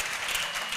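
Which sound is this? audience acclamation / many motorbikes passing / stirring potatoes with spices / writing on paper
audience acclamation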